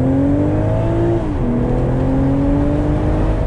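A 2020 BMW Z4 M40i with a 382-horsepower engine accelerates hard under an automatic transmission, its loud rising whine dropping once at a quick upshift before climbing again.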